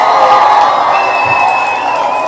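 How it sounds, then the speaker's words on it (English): Steady wash of audience applause and crowd noise from a large gathering at a lively talk event, continuous and fairly loud throughout with no pauses. "let's give Zeepak a huge round of applause"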